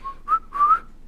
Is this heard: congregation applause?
no